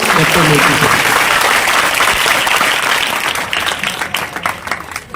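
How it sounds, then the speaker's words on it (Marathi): A large crowd at a birth anniversary celebration held at a high school claps loudly and continuously, the applause gradually thinning into scattered claps toward the end. "एकदा जोरदार टाळ्या होऊ द्या"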